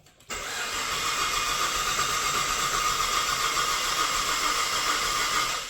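Holden Commodore with starting fluid in the intake cranking without catching: a steady, loud, continuous mechanical whir of the starter turning the engine over for several seconds with no firing, close up.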